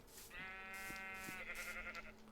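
Sheep in a video game bleat in a long, wavering, nasal cry lasting over a second, followed by a shorter second bleat, with faint game clicks and thumps underneath, as the animal is killed for cooked mutton and wool.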